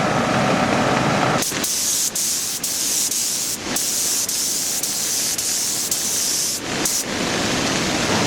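An inflatable paint booth gives off a steady, loud rushing hiss during spraying, with a few brief dropouts where the noise cuts out for an instant before resuming.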